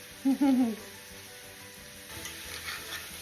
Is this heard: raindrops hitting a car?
no